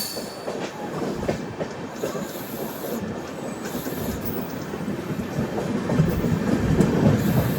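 Tirupati Express LHB train running past Kadiyam station, a steady loud rumble of wheels and rattling carriage noise heard from on board, growing slightly louder toward the end with no talk.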